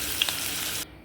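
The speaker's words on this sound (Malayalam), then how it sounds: "ഇതിലേക്ക് ഇഞ്ചി ഇട്ട് വറക്കുക" Ginger pieces frying in hot coconut oil in a pan, a steady broadband sizzle that runs loud and continuous before cutting off abruptly near the end.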